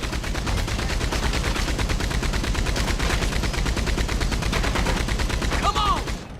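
Rapid, continuous automatic gunfire rattles through a train robbery in Red Dead Redemption 2, loud and relentless across the whole stretch, with brief shouted voices mixed in.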